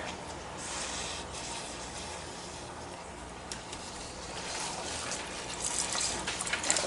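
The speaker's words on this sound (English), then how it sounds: "I think it's time to add some milk." Milk poured into a pot of ham, potato and leek soup, a steady soft liquid stream running for several seconds, close and moderately quiet, with no talking over it.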